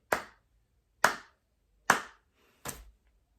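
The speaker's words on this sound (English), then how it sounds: "Slow clap, Mary." Four slow, deliberate hand claps, roughly a second apart, sharp and close with silence between them and no voices.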